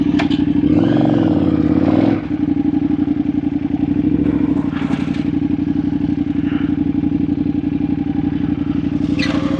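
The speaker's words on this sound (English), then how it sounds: "So open this gate, move the bike through there." A motorcycle fitted with large long-range fuel tanks idles and revs loudly up close as it is moved through a gate, with clattering from the gate and bike and a brief engine dip partway through.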